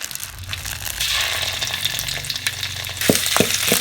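Steady sizzling of curry paste stir-frying in hot oil in a wok, with a few sharp scraping clicks of a utensil stirring the pan near the end.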